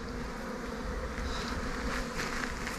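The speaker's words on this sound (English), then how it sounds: "loads of bees, lots and lots of bees come to my garden." Honey bees buzz continuously up close in a garden, a busy droning hum with individual insects swelling louder as they pass.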